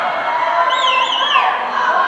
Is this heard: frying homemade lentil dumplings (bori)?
no